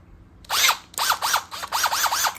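A power drill spins briefly to release its bit, close up: a short whirring burst, a pause, then several rising-and-falling revving pulses in quick succession.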